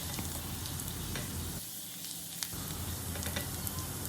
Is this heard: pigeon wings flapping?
no